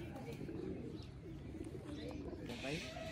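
Pigeons coo in low, throaty rolling calls close by at a rooftop pigeon-flying spot, several overlapping murmurs filling the short stretch, with faint background noise.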